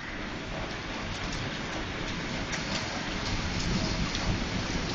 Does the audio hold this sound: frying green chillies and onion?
no